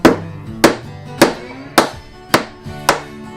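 A hammer striking a punch set against the primer of a bullet shell, six sharp metallic blows at a steady, roughly half-second rhythm, close and loud with brief ringing decay after each hit.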